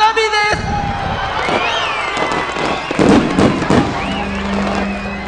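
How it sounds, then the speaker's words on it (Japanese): Fireworks burst at the 33rd Yomitan Village Youth Eisa Festival in Okinawa in 2016. Loud booms and crackling pops come in rapid, overlapping bursts, with crowd noise and voices underneath. "花火です。"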